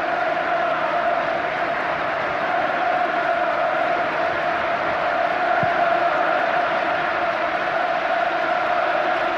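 A 40,000-strong football crowd at Old Trafford during a 1994-95 Champions League match between Manchester United and Barcelona, producing a continuous, loud, even roar that holds steady throughout.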